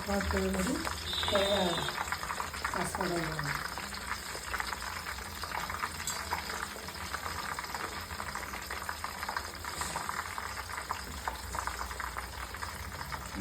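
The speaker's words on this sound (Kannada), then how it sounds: "ಸೊ ನೋಡ್ತಾ ಇರ್ಬೋದು ಯಾವ ರೀತಿ ಎಣ್ಣೆ ಕಾಯ್ತಾ ಇದೆ" Parachute coconut oil, 500 ml, heating and bubbling in a pan for homemade baby oil, a steady soft crackle and fizz throughout, with someone talking over it early on.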